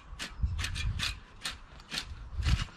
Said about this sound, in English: just a quick rake,